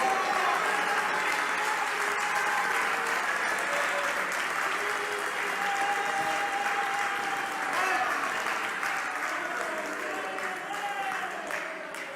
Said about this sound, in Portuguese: Aplaudam o Senhor Jesus Cristo.